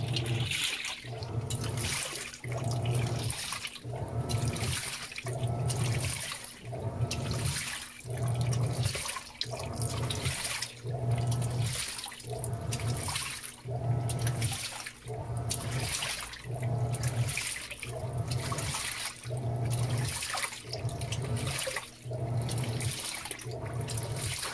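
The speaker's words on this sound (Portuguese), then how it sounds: "Primeiro enxágue, estamos com Smart Sense e nível baixo. Mas tem meia máquina de água." Water sloshes and churns in a Panasonic Ag+ 16 kg washing machine during its first rinse, about half full, with rhythmic surging swishes repeating every second or two, steady and close.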